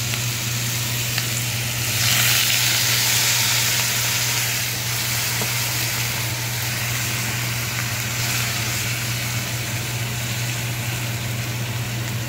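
Paneer sautéing in a kadai gives a loud, continuous sizzling hiss over a steady low hum, with faint stirring and no voices.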